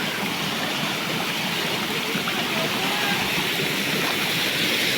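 A jungle stream flows during a hike through rocky terrain. It gives a continuous, even rush of water, fairly loud and close, steady from start to finish with no distinct voices over it.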